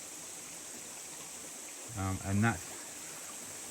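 A small, shallow, clear creek in the Northern Territory flows with a steady, even hiss of running water, nearby and constant, while someone briefly speaks over it.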